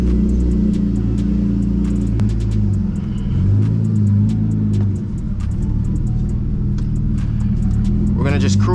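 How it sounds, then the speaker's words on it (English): A manual BMW E36 cruising through hills: loud, steady engine drone and road rumble fill the cabin, with engine pitch rising and falling through gear changes. "We're gonna just cruise today in the E36."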